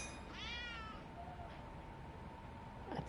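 A cat in the video game Judgement gives one clear, drawn-out meow, fairly quiet over a low steady background hum, followed by a faint click near the end.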